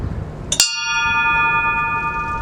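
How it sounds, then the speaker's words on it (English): One bright metallic ship's bell strike aboard a Revolution-era tall ship rings out and its tone sustains, slowly decaying over a soft background rumble. "At 30 minutes, one bell would sound."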